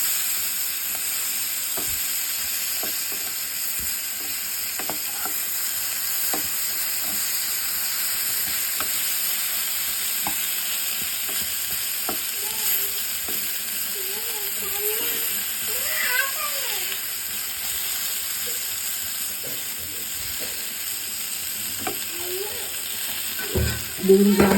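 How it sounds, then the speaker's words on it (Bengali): A small batch of eggplant pieces fries in hot oil in a home kitchen for a boal fish curry: a steady, close sizzling hiss with faint stirring clicks and scrapes throughout. "বেগুনগুলো মোটামুটি ভাজা হয়ে গেছে, বেশি ভাজা যাবে না।"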